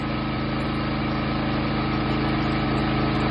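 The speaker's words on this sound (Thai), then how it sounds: "เครื่องเดินเบาเดินเรียบให้กระตุ้นครับระบบเครื่องออโต" A 15-horsepower generator engine idles smoothly and steadily close by, a constant loud mechanical hum with an even low throb that does not vary.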